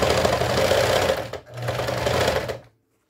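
A sewing machine runs a straight stitch along the lace edge of a traditional racerback bra, a close, steady rapid chatter in two bursts split by a brief pause, then stopping, with no talking.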